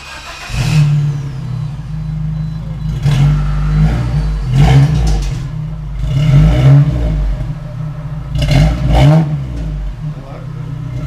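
Geo Tracker 4x4 fitted with a new Flowmaster muffler and pipe, its engine revving in repeated loud bursts over a steady low exhaust drone, with people talking nearby.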